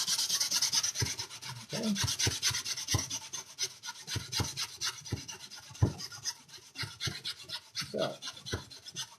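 A lemon's peel is rubbed against a grater for zest, giving a series of close, rhythmic scraping strokes at an uneven pace, with one brief word spoken.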